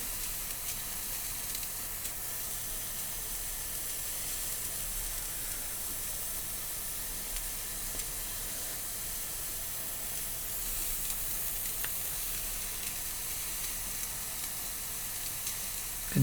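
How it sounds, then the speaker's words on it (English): A steam engine's boiler boils steadily near 90 degrees, producing a continuous, even hiss and seething bubbling rush that stays constant, close and moderately loud with no talk. "boiling noises coming out of the boiler."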